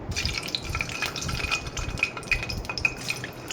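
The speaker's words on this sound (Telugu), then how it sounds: "ఆయిల్ వేడెక్కిన తర్వాత మనం గుడ్లు వేసుకుందాం" Eggs go into two tablespoons of hot oil in a pan, giving a soft, faint crackle with scattered light clinks of a utensil against the cookware.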